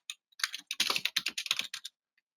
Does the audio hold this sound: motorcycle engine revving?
no